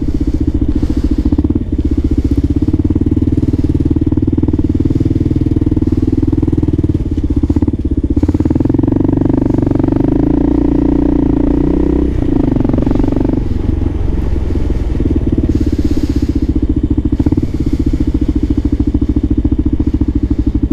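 A Kawasaki KLR650 motorcycle engine runs on a cold winter night, a loud, steady single-cylinder thrum with rising and falling revs in the middle and a constant road rumble, no talking.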